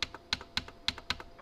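Keys pressed on a Dahua NKB1000 security keyboard while a password is entered: about six crisp, evenly spaced clicks with fainter secondary taps, close and quiet, with no talking.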